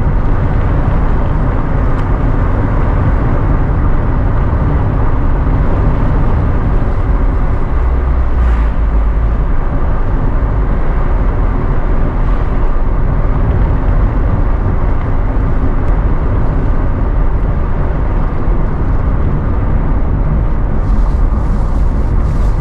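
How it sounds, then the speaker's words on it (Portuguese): Truck climbing a hill on the opposite side of a Brazilian highway, a loud constant engine and road roar heard from inside a moving car, with no talking. "caminhão subindo lá do outro lado"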